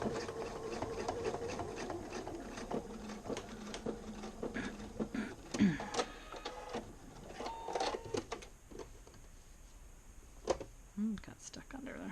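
A sewing machine stitches a seam on a pair of pants, sounding as faint, close mechanical chatter in uneven bursts with pauses, while a person talks softly over it.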